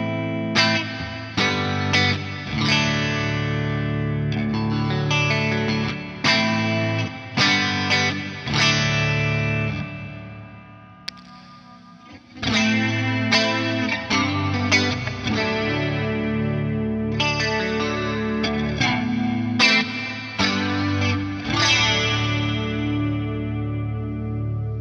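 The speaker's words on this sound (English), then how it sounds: "So I'm going to show you the difference between the wet signal and a dry signal without the chorus." Electric guitar played through a NAOMI Classic analog chorus pedal, strummed chords and picked notes with a distorted tone, switching between dry and wet shimmering chorus, with a brief quieter pause midway.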